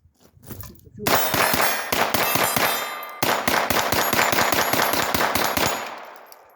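An AR rifle fitted with a .22 conversion bolt fires Blazer .22 ammunition in single shot mode, a quick series of sharp, clanging shots in a steady rhythm with a brief pause midway.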